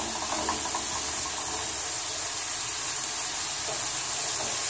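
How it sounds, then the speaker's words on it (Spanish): Beef liver with onions sizzles in a hot pan over raised heat for Colombian hígado encebollado, a continuous close, bright frying hiss that stays steady and fairly loud with no voices. "Queremos es que se sofría muy bien, que quede muy doradito."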